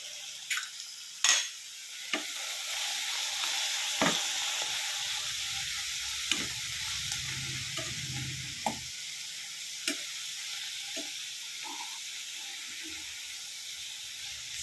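Sambar spinach (waterleaf) sautéing in a pan, a quiet continuous sizzle broken by scattered clicks and scrapes of stirring, close and soft, no voices.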